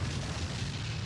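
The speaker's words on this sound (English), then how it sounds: "An explosion?" A deep, rumbling explosion effect from a dubbed anime episode, a dense low boom that fills the whole second at steady loudness with no speech over it.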